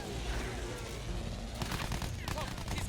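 Rapid gunfire in the video game Battlefield 1, loud, continuous overlapping shots with a rattling burst of fire, mixed with engine noise and voices talking.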